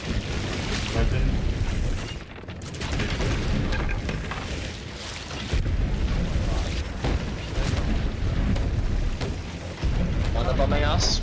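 Cannon fire in Sea of Thieves, a pirate ship battle at sea, with repeated loud booming blasts and rumbling over a continuous roar of action while players shout over it.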